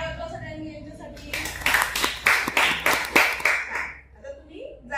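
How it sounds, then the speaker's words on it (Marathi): Schoolchildren in a classroom clap together for about three seconds in a dense, ragged burst, with a teacher's voice heard just before and after. "टाळ्या वाजवा सगळ्यांनी यांच्यासाठी"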